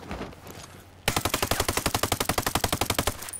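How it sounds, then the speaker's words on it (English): A 416 Shorty rifle firing on full auto in the shooter game Ghost Recon Breakpoint, a loud rapid string of about twenty evenly spaced shots after a quieter second of ambient noise. "This gun has a pretty good rate of fire."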